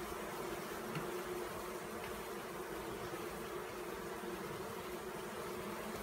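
Honey bees hum in a steady, low drone as comb is cut free and lifted during a bee rescue at a golf course, the buzzing continuous and close with no talk over it.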